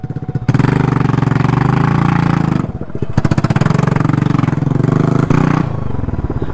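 A motorcycle engine runs loud and close, chugging steadily at idle with a brief dip midway before resuming its rough, continuous throb.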